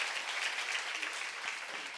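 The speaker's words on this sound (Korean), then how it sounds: "박수" A church seminar audience claps steadily for two seconds, a dense, even wash of many hands with no voices over it.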